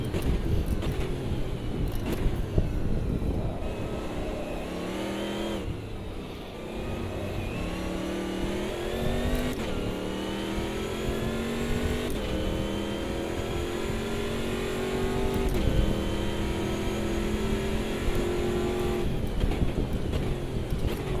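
A race car engine in AMS2 screams near the rev limiter, bouncing off it repeatedly as the pitch climbs through the gears, with sharp drops at each upshift, loud and continuous with no voices.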